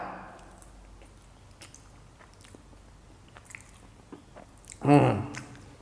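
Dried fish strip snack being bitten and chewed up close, with soft crunching that builds to one louder crisp bite near the end while someone talks.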